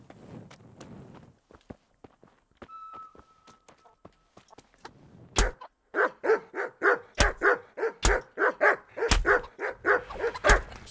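Dogs bark in the medieval video game Kingdom Come: Deliverance, a rapid run of loud, repeated barks in the second half, after quieter footsteps and clops.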